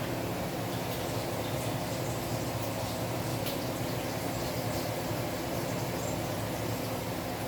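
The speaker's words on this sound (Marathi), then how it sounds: "मोहरी तडतडली" Mustard seeds crackle in hot oil in a home kitchen, a faint, steady hiss with scattered tiny pops running unbroken for several seconds.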